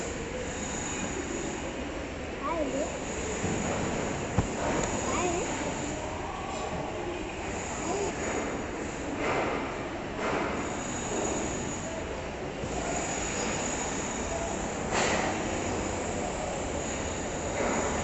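A train rumbles steadily at a railway station platform, a continuous low roar with occasional brighter screeches and clanks, mid-distance, with faint background voices.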